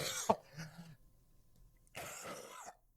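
A person imitates a harsh cough, giving one sharp throaty bark followed by rasping, then after a pause a second rough, strained cough. It is close and fairly loud, with no other speech.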